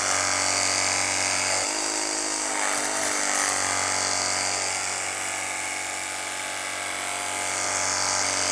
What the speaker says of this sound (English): Thankfully, I've got my 12-pound Temu pressure washer.